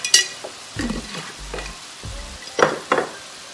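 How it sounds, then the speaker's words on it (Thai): Pumpkin and prawns being stir-fried in a pan. Close sizzling is broken by several distinct scraping and tossing strokes, with a few sharp clinks of the utensil against the pan. "จากนั้นเราก็ ผัดเลยค่ะ ให้ฟักทองสุกนะคะ"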